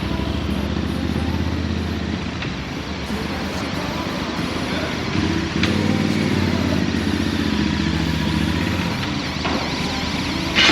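A motorcycle engine idles and rumbles at close range while the bike is eased into a parking spot, with a steady low throb, a few clanks and a slight rise in revs partway through.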